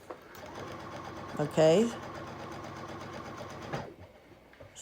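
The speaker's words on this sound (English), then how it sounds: "Turn it and then stitch again from the corner to the corner." A sewing machine stitching a corner of a pillow cover with binding, a steady close mechanical whir running for a few seconds, with a brief spoken word partway through.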